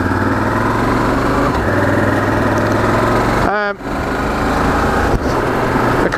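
A Honda Varadero XL1000 motorcycle engine drones steadily while riding on twisty roads, with a continuous hum and wind rush and a brief dip partway through.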